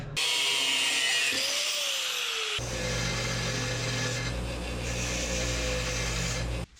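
Power tool cutting a piece off a 2-inch wide scrap metal strap, a loud continuous grinding whine that shifts pitch partway through and stops abruptly at the end.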